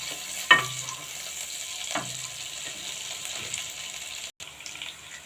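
Garlic, onion and four dried chillies frying in oil, stirred gently: a steady soft sizzle with a few sharp spatula scrapes against the pan, close and unaccompanied by talk.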